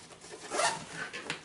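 Dual zippers on an LA Police Gear Atlas 72 hour tactical backpack pulled open, a close raspy zip swelling in the middle, followed by a couple of short quick zip strokes.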